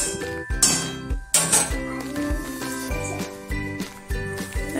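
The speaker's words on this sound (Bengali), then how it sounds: "আর এই খুন্তিতে খুব ভালো নাড়া হয়, এই দেখো খুব সুন্দর নাড়া হয়।" A metal spatula stirs chow mein in a pan, giving repeated clinks and scraping taps in an uneven rhythm over a steady sizzle, close and fairly loud.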